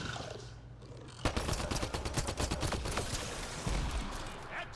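Gunfire erupts in the Mass Effect Andromeda video game on the planet Havarl, a sudden burst of rapid repeated shots that keeps crackling for several seconds after a brief quieter lead-in.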